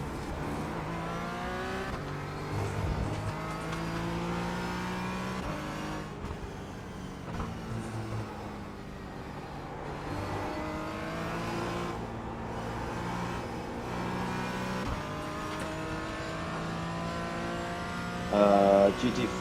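Porsche Cup race car in the iRacing video game, its engine droning and revving steadily throughout with shifting pitch, fairly quiet beneath occasional faint talk.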